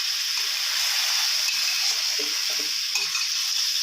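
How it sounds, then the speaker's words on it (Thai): Bell peppers are stir-fried with chili paste and a splash of water in a pan, giving a continuous bright sizzle with scraping stirring sounds running through it, close and fairly loud. "เราจะผัดแบบมีน้ำขุกขิดนะครับ"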